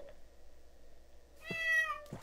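A cat meows inside a video game, giving one clear drawn-out meow followed by a short fainter one over a quiet background hum.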